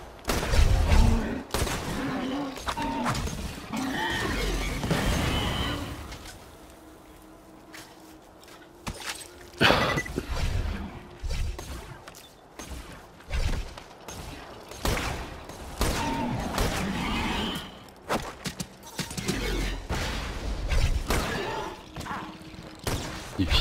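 Bursts of Borderlands 2 gunfire crack out in several volleys, with mechanical reloading clicks between them and quieter stretches of background sound.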